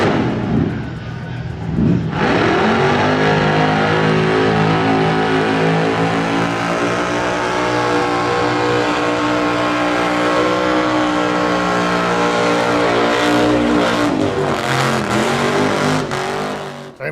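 A car with a big-block blown Chevrolet engine revs hard and loud for a long sustained stretch, holding a steady roaring pitch with rising and falling harmonics, close and alone.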